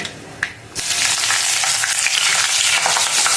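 Four green chillies hit hot oil in a pan for tempering, setting off a sudden loud, steady sizzle that continues without a break after a short quiet start, with no talking.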